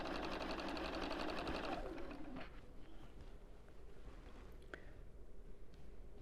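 A sewing machine stitches small quilt fabric pieces in a steady, rapid whir for about two seconds, then stops, leaving quiet room tone with a few soft clicks and distant bird coos.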